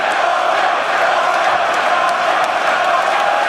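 A large esports crowd at an EU LCS League of Legends match roars and cheers continuously, a dense wall of voices that holds steady throughout.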